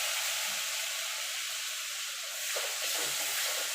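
Tomato pieces dropped into hot oil with turmeric and Kashmiri chilli powder for a bhindi posto, giving a steady broadband sizzle that holds throughout, close and fairly loud, with a brief surge partway.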